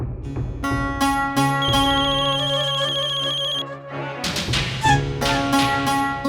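A phone ringtone plays continuously, loud and close, a melodic electronic tune repeating with steady rhythm and no talking over it.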